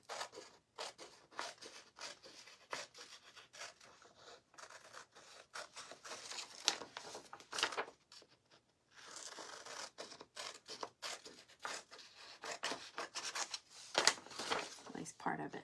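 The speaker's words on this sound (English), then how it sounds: "I'm going to cut off this white border." Scissors snip away the white paper border in a craft project, a run of close, quiet cuts and paper rustles with a short pause partway through.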